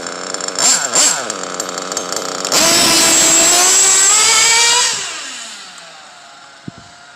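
Minibike engine fitted with a Reds clutch and Reds exhaust pipe, revving hard: loud sustained high-pitched buzz that climbs, holds near full throttle for a couple of seconds, then falls away to idle. No talking.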